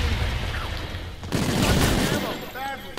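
Explosions and bursts of gunfire in Call of Duty Infinite Warfare Zombies, a heavy grenade blast landing midway among rapid shots, loud and close, with a player's voice briefly over the noise.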